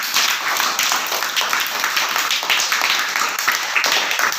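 A school audience applauds a child's storytelling performance with steady, dense clapping from many hands, continuous and fairly loud throughout.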